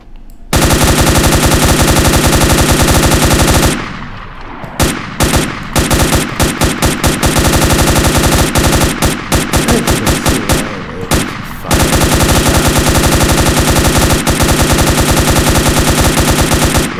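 Automatic gunfire from the video game Crossroads Warfare, loud and close: long sustained bursts, then a stretch of short stuttering volleys, then another long unbroken burst.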